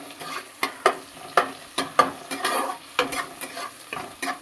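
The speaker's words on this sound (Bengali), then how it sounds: "পেঁয়াজটাকে একটুখানি লাল লাল করে ভেজে নিতে হবে" Onion frying in oil in a pan for a tilapia and cauliflower-potato curry, with irregular scraping stirs and spatula knocks over a steady close sizzle.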